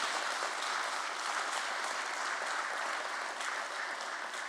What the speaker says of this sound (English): let's hear a nice big round of applause, ladies and gentlemen, for Regaal Resources